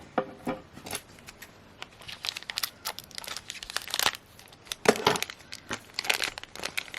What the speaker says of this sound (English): it looks like we need scissors